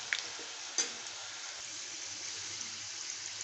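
Bitter gourd slices frying in oil for chips, a steady close sizzle with a couple of brief clinks of stirring at the start.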